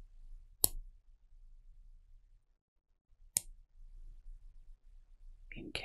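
A steel luxury watch case back being closed gives two sharp, isolated metallic clicks a few seconds apart, close and fairly quiet, followed by a brief soft rustle at the end.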